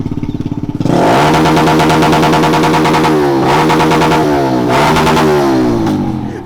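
A car engine revs hard and repeatedly bounces off the rev limiter, a loud, close, sustained roar with rhythmic stuttering cuts where the limiter catches, surging again after each dip.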